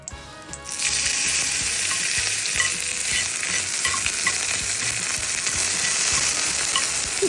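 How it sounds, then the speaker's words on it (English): Steady, loud sizzling of shrimp legs frying in hot oil in a frying pan, continuous from start to finish after a brief quieter opening, with no voices. "I'm gonna be frying my little fellow shrimp's legs"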